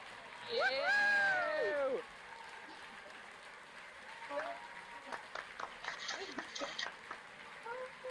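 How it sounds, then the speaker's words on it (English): Scattered, thin clapping comes through unmuted microphones at an online university graduation ceremony, with a brief voice near the start and then uneven, patchy claps from a few remote attendees. "we can unmute our microphones and a big round of applause, please."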